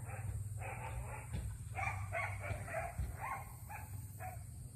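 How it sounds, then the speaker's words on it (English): Several dogs scuffle and bark behind a fence, heard at a moderate distance: a string of short yelps and barks over roughly five seconds, set against a steady low hum and quiet background. "Dogs are like fighting in the back of the fence there"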